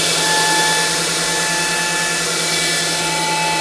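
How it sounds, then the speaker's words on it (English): New radiator fans on a jet kart blow with a loud, constant whooshing roar and a steady mechanical hum, unbroken throughout. "got new radiator fans. The oil's getting pretty hot, so I've got a lovely blast now from those"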